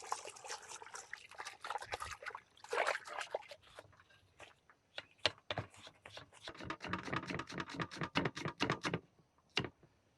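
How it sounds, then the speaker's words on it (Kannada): Tomatoes are washed under running water in a kitchen while cooking country chicken sambar, with quiet, close trickling and intermittent splashy sloshes and drips as they are rubbed and turned. "ಟೊಮೊಟೊ ಕ್ಲೀನಾಗಿ ತೊಳ್ಕೊಳ್ಳೋಣ"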